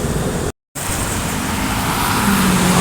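Loud, close roar of a convoy of three intercity buses rushing past, a continuous engine and tyre noise with a brief cut near the start.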